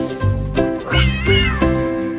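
A cat meows several times in a row within a children's nursery rhyme song, loud and close with clear pitched tones that rise and fall, heard alone without singing.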